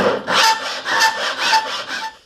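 Hand file rasping along a steel knife blade, with four steady rhythmic strokes, each a bright scraping rush that swells and fades, close and fairly loud.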